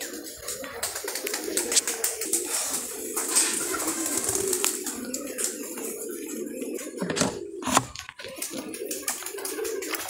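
Pigeons cooing in a loft, soft repeated coos over a steady background hiss, with a few scattered clicks and brief wing or movement sounds, no talking.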